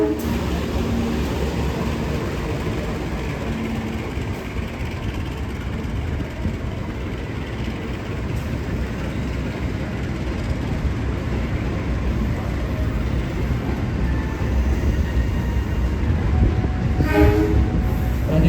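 Sawunggalih train from Kutoarjo bound for Pasar Senen arriving at the station, with a continuous rumbling roar of wheels and engine and a short horn blast near the end, close and steady.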